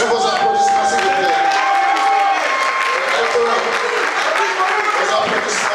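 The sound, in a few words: audience applause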